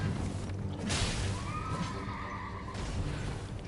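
A horse neighs in the Elden Ring video game: a loud, drawn-out whinny rises and falls over a dense, steady game soundscape.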